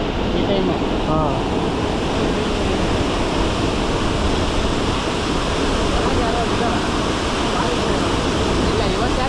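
Water crashing at Dabbe Falls, a dense, constant roar of falling water close by, steady and loud throughout with talk faintly mixed in.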